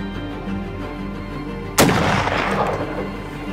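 A single loud rifle shot rings out during a mountain goat hunt in the Idaho mountains, a sharp crack that fades into a long echoing rumble over a steady background hum, with no voices.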